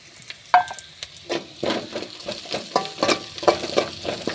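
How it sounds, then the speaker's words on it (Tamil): Dried red chillies fry in hot oil in a pan alongside garlic, a close sizzle with repeated scraping stirs and clinks at an irregular rhythm, and no one speaking. "அடுத்தது வரமிளகாய் போட்டுக்கலாம்ப்பா"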